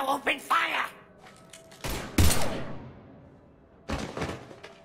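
Gunfire in the sci-fi video game Mass Effect 3 crackles in rough bursts, with loud rattling volleys and heavy thuds broken by short gaps, mixed with game voices.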